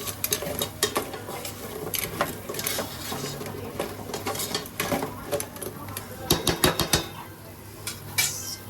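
Konkani-style crabs frying in oil, with a constant low sizzle under repeated clinks and scrapes of a utensil against the pan, including a quick cluster of knocks near the end.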